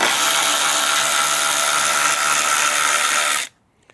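A cordless ratchet, rated at 40 foot-pounds of torque, spins a bolt out of a car in one loud, continuous high whir that stops abruptly, followed by a faint click.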